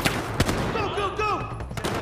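Gunfire in Battlefield 4's Shanghai mission: a few sharp, loud shots crack near the start and again near the end, set against a busy battle backdrop with voices shouting.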